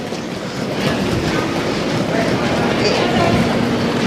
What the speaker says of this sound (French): il y a une sorte de métro pour te conduire aux différentes portes.